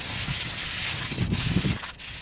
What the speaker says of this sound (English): get some sandpaper and scuff up all the metal